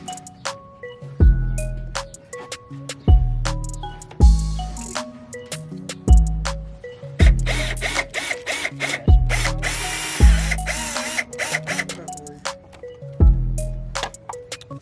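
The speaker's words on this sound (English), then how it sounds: "so now we know exactly where to drill for this side and for the other one as well" A power drill bores holes for a car's front bumper on a widebody FRS, sounding as a series of loud, close bursts of whirring motor roughly every second or two, each spinning up and then trailing off.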